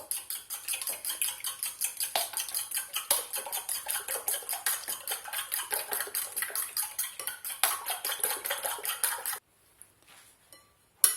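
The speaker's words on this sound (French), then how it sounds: "maintenant je vais battre le tout" A whisk beats a mascarpone tart filling with cumin and other spices in a bowl, producing rapid, even metallic tapping and scraping for about nine seconds before stopping.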